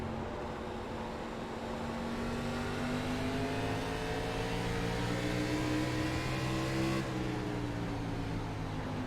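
A race car engine drones loudly and continuously on the Richmond oval in the iRacing simulator, its pitch climbing steadily as the throttle comes back on after trail braking, close and unbroken with no voices.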